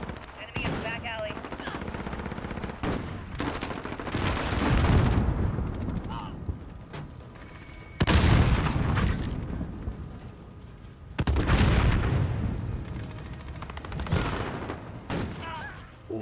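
Call of Duty gunfire on PS5 or Xbox Series X: sustained bursts of automatic weapon fire and heavy blasts swell and fade in several loud waves, with player voices talking over the shooting.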